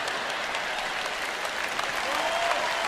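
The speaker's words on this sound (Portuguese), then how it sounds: "Vocês não estão aplaudindo muito forte." Church congregation applauding during a sermon, a steady dense wash of clapping from a large crowd, sustained at an even level throughout.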